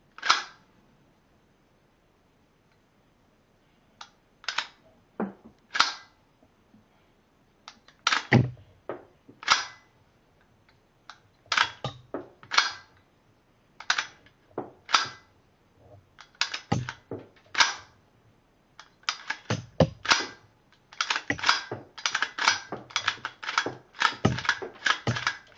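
A rifle fitted with a CMMG .22 LR conversion kit is cycled and fired, producing sharp metallic clicks and clacks that start sparse and grow into a dense, irregular run near the mic, with a few rounds scattering.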